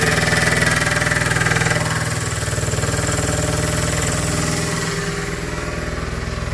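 A PM25MV milling machine's spindle runs at a steady speed, a loud, even motor hum with a constant mechanical buzz. It eases slightly in level partway through and has no voices.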